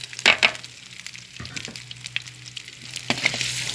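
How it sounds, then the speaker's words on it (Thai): Crispy snakehead fish dropped into hot oil, giving a sharp burst of sizzle up close, then a lighter crackle and a second spitting flare near the end. "ตอนนี้เดี๋ยวผมใส่ปลานะครับ ใส่ปลาลงไปเลยนะครับ"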